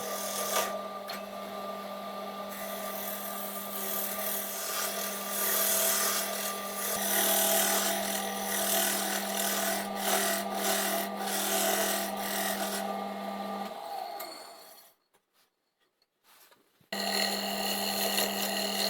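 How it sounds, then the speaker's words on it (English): Wood turning on a lathe with a homemade 13mm round carbide scraper gives a continuous rasping scrape over a steady motor hum, pausing briefly before resuming; no talking. "This piece of wood is turning really well. The tool I'm using is a homemade 13mm round carbide scraper."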